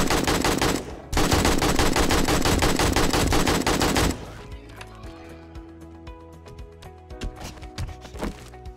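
Rapid automatic gunfire from the video game 7 Days to Die rattles loud and continuous for several seconds, breaks off, then gives way to scattered quieter shots and clatter.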